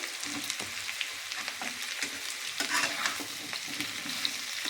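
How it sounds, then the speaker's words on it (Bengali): Ridge gourd and eggplant sizzle and crackle in a hot pan, with a spatula stirring and scraping now and then; no talking. "দিয়ে ভালো করে এগুলো একসাথে ভেজে নেবো"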